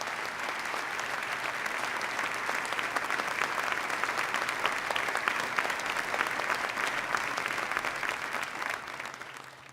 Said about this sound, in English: I'd ask us to give them a round of applause now